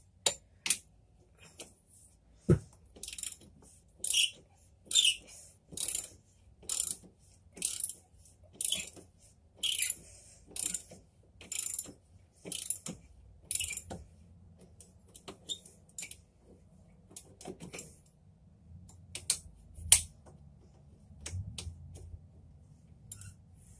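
A ratchet wrench turns a bolt, giving a run of evenly spaced, sharp clicks for about fourteen seconds before the clicking fades to sparser, fainter ticks over a low background rumble.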